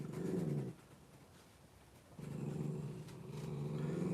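A dog growls low and close in a quiet indoor room, two rumbling bursts separated by a short pause.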